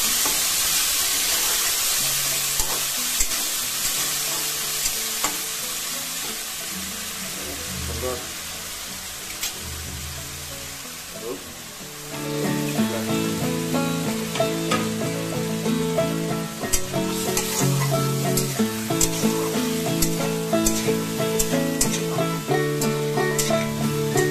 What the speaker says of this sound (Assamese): কাটি থোৱা পাচিদালি অকণমান লৰাই ল'ব লাগিব।